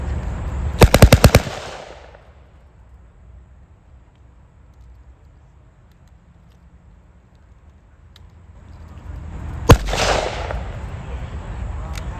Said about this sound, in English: Sergeant Kajitas, could you demonstrate the Thompson submachine gun in full auto?